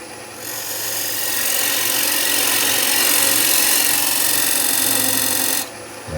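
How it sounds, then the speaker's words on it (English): A skew chisel shears a dovetail into a wooden bowl spinning on a lathe, giving a steady, loud, close rasping hiss that builds and holds for several seconds before cutting off. "create a nice little dovetail with the skew"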